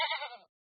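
A goat gives one brief, quavering bleat, close and fairly soft, that cuts off after half a second into silence.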